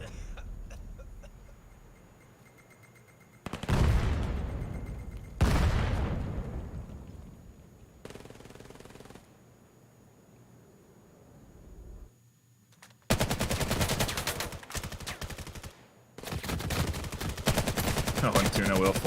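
Rapid SMG bursts and a grenade blast in the VR shooter VAIL during a competitive match, sharp loud volleys in several separate bursts with a commentator talking between them.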